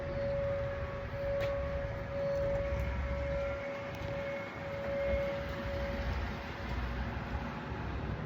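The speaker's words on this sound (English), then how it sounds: "Look at the tornado sirens going off right now." Tornado warning sirens wailing across Texas, one steady sustained tone held for the whole stretch over a rumbling outdoor background, moderately loud and somewhat distant.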